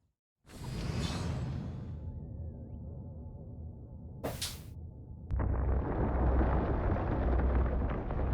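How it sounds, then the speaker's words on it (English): A big nuclear explosion in the video game Destroy All Humans, a loud rushing whoosh followed by a brief sharp burst and then a heavy, sustained rumbling roar that swells near the end. "Nice big nuclear explosion. Just what we need."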